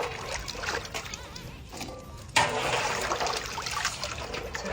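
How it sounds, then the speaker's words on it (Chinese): Vegetables for a mushroom and beef sauce are rinsed under running water in a country kitchen, with a steady trickle and splash that swells louder about halfway through. "把这所有的配菜咱洗一下子"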